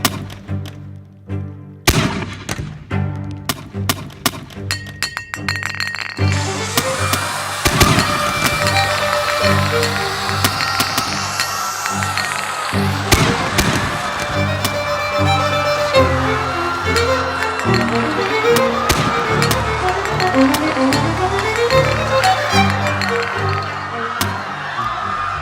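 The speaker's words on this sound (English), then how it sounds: "that terrible sound of gas canisters popping out of their launchers" Tear gas canisters popping out of launchers during street unrest in Bogota, Colombia, a dense run of sharp repeated pops and metallic clinks over a constant loud background din.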